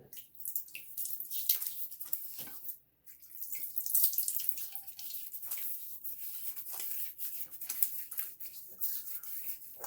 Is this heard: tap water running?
yes